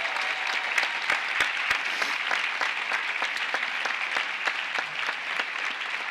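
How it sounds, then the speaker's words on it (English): Sustained audience applause at a college commencement ceremony, a dense steady wash of many hands clapping with no voices, honoring the graduates' supporters. "let's have one more round of applause for all those people who helped you get here"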